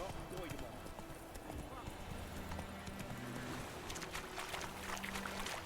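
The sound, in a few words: horse hooves cantering in The Witcher 3 video game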